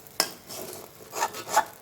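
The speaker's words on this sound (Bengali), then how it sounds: "দিয়ে চাইল ভাজি" Rice grains frying and being stirred in a pan, a sharp scrape near the start followed by two softer scraping stirs with a faint sizzle underneath, close and fairly quiet.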